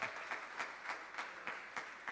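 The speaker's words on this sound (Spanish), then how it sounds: "Un aplauso para Jason." Faint applause from an audience at a talk, steady and somewhat distant clapping with soft rhythmic peaks, low in level and without talking over it.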